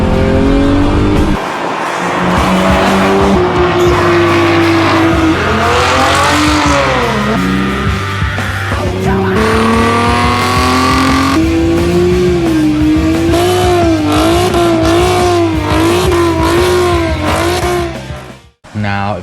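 A car engine with an unusual noise being diagnosed after a motocross track day runs loud and steady, its pitch rising and wavering through revs, with occasional louder bursts and no talk over it.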